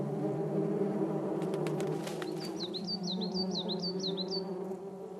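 Steady low buzzing of giant hornets drones throughout, with some bird chirps in the background partway through.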